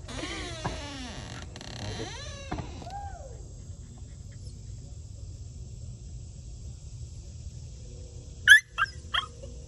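A frightened little female dog whimpers in a few thin, rising-and-falling whines early on, fairly faint, with quiet background and a few sharp clicks near the end.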